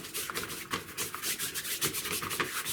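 Soft, continuous scratchy brushing of a paintbrush on 140-weight Bockingford watercolour paper, with repeated strokes rising and falling in a steady rhythm, close and fairly quiet, no talking.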